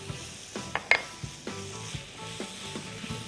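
Garlic sautés in a non-stick pan, a soft close sizzle punctuated by several quick stirring scrapes and taps of the utensil against the pan, with no voices.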